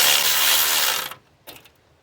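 A ratchet loosens the 14mm alternator bolt on a 2001–2005 Honda Civic, giving a dense metallic clicking burst for about a second, then a short second burst, close up with no talk.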